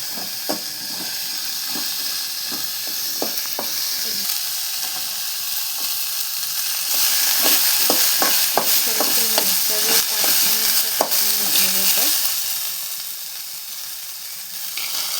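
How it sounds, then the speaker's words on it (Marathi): Cut ridge gourd being roasted in a pan with oil and cumin, producing a steady hissing sizzle with repeated scraping stirs that grow louder and busier midway before easing off. "इथं हे दोडके आहे ना कापून स्वच्छ धुवून घेतलेलं. त्याला छान असं भाजून घ्यायचं."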